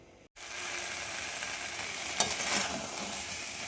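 Potato curry frying on high heat in a pan, with a steady, even sizzle that starts after a brief pause and carries one sharp clink partway through.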